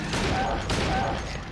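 Dense burst of gunfire in the survival horror video game Silent Hill 2, a continuous loud crackle of rapid shots lasting the whole moment, with a voice partly underneath.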